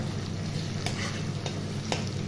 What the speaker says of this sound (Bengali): ভাজা হয়ে গেলে তখন আমি চাল দিয়ে ভালোভাবে ভেজে নেব